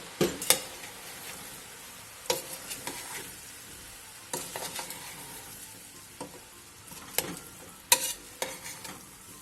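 Pork ribs and their juices tipped into a stew pot for a potato and rib stew, giving a steady soft sizzle broken by several sharp scraping and stirring clatters, close and moderately loud, with no talking.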